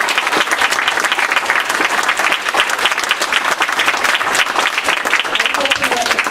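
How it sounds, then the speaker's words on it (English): An audience at a political field forum breaks into a loud, steady round of applause, dense clapping sustained throughout with a few faint voices mixed in. "we need to give them a round of applause"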